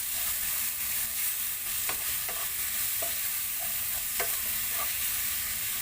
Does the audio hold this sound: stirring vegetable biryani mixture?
yes